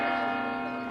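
A church bell rings out in Madrid at Christmas time, a loud sustained tone with rich steady overtones that fills the whole moment without fading.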